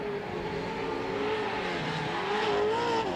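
Pro 2 short course race trucks at the 2021 Great American Short Course race at SBC Fairgrounds roar past continuously, a loud, throaty engine drone rising and falling in pitch as they accelerate by.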